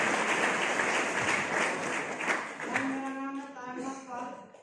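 An audience claps loudly at a gathering for a customer's testimonial about a herbal product. The applause is thick at first, then fades as a voice begins speaking.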